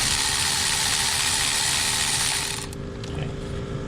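A socket ratchet works a nut on a car radiator, giving a dense, rapid mechanical clicking up close that runs steadily, then thins out near the end.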